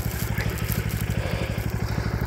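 Tractor engine running in heavy snow, a steady low rhythmic chugging heard close and continuous, with no talk.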